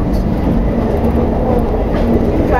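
London Underground 1938 tube stock train on the Metropolitan Line near Rickmansworth, heard from the cab: loud, continuous rumbling roll with rhythmic wheel clatter and a faint high whine.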